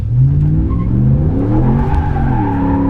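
A 2017 RAM 1500 Sport pickup with a 5.7L V8, rear-wheel drive, accelerating hard, its loud engine note climbing steadily through the revs and heard close up, with no talking.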